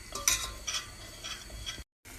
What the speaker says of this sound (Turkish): Cennet çorbasının ilk aşaması mısır unu ve tereyağı birlikte kavruluyor